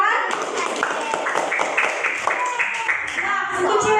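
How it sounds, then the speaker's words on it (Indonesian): A group claps together in rhythmic bursts in a classroom setting, with excited voices and chatter running over the claps. "Oke, tepuk tangan."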